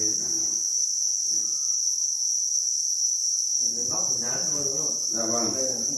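Crickets at a cricket farm in Vietnam chirp in a dense, continuous high trill that never lets up, while people talk quietly underneath.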